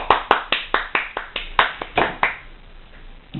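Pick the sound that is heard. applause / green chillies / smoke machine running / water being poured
applause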